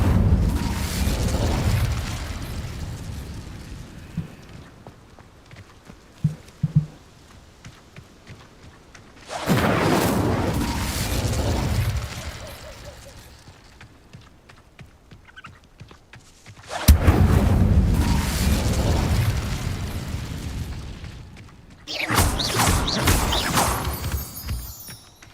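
Repeated casts of the Incendio fire spell in the video game Hogwarts Legacy, each a loud whooshing burst of roaring flame lasting several seconds, with three or four separate blasts divided by quieter stretches.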